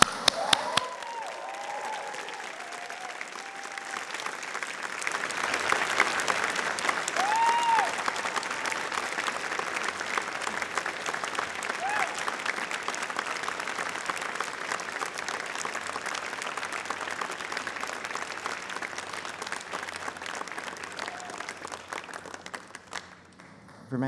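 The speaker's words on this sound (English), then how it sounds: "show them your appreciation with the kind of thunderous, joyous, full-bodied applause that says, I made it and I couldn't have done it without you." Sustained audience applause at a University of Manchester graduation ceremony, a broad steady wash of clapping filling the hall for over twenty seconds, with a few faint whistles and cheers rising through it.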